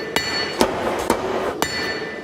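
A blacksmith hammers hot steel, with five sharp ringing strikes at a steady rhythm, close and loud, each blow leaving a metallic ring.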